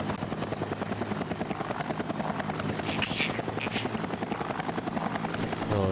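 Helicopter rotor and engine in the flight-rescue video game Mission Luftrettung, a steady loud thrum running throughout the clip, joined by a faint higher whine partway through.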